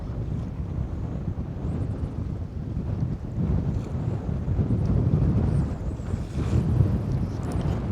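A gust of wind over 30 mph roars steadily past the microphone outdoors near water, loud, low and buffeting, swelling in strength without letting up.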